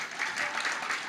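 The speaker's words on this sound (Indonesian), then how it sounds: "Sekali lagi kasih tepuk tangan." Applause fills the room at a Christmas church gathering, a steady dense patter of many hands clapping close by, holding evenly for about a second.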